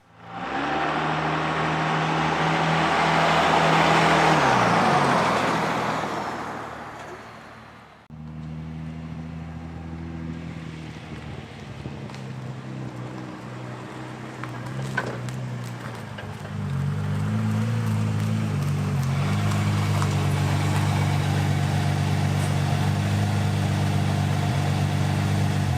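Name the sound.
car driving and pulling up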